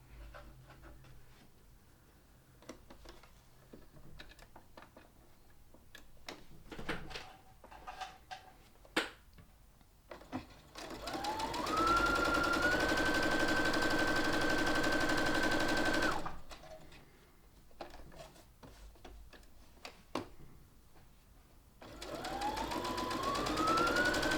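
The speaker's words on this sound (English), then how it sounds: "Let me show you how you can continuously sew these." A home sewing machine runs in long continuous bursts as it stitches a chain of bunting flags into binding tape. Quieter handling noises fill the pauses between the two loud, steady runs of sewing.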